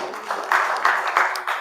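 A church congregation clapping in praise of Jesus, a few broad, rhythmic bursts of hand claps at a steady pace, fairly close and moderately loud.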